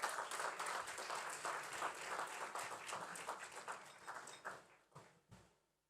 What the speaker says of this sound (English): Come on, big round of applause, everybody.